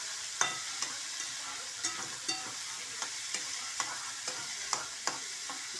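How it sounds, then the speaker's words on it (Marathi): Onion sautés in a pan with a faint, low sizzle, broken by a regular run of light spatula clicks and scrapes about every half second as it is stirred. "चांगली अशी भाजायची चांगली भाजून घ्यायची मस्त खूप वेळ लागतो जरा कांदा भाजायला"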